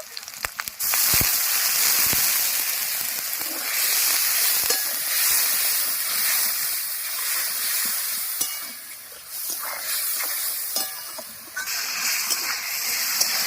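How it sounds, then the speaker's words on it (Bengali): Prawns fry with cumin paste, salt, turmeric, chili powder and a splash of water in a pan, giving a steady loud sizzle with scraping stirs and sharp spatters throughout. "চিংড়ি মাছের সঙ্গে সমস্ত মশলা খুব ভালোভাবে কষে নিয়েছি"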